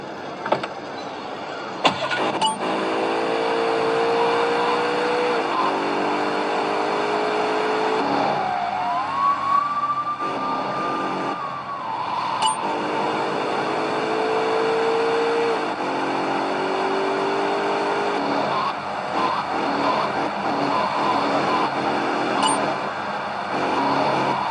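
Car engine in a GTA game starting, then droning and shifting through gears as it drives, loud and continuous with rising and falling engine tones and a brief squeal midway.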